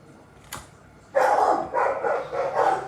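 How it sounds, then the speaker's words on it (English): Dogs bark in repeated loud bursts nearby, several overlapping barks following a sharp earlier yelp, indoors in a home while someone records. "let's see if I can get this video finished without the dogs going berserk"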